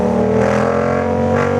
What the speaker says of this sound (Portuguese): O V8 no noturno.